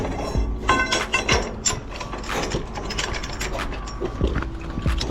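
Repeated rapid ratchet clicks close up, coming in short bursts as a scaffold swivel clamp is tightened, with occasional metallic knocks.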